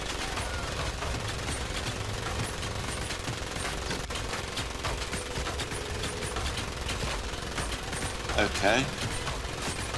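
Rapid gunfire during cover fire in the World War II shooter Medal of Honor: Pacific Assault, a steady rattle of automatic bursts with mechanical clatter throughout, fairly quiet, with a brief spoken word near the end.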